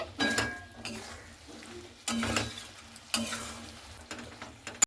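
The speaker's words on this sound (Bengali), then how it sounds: "ভেজে রাখা সয়াবিনটা দিয়ে খুব ভালো মতো করে সয়াবিনটার সঙ্গে আর মশলাটার সঙ্গে একটু এইভাবে আমি নাড়াচাড়া করে নিচ্ছি।" Fried soybean pieces stirred into masala in a frying pan, with a spoon scraping in several bursts over a low, steady sizzle; no talking.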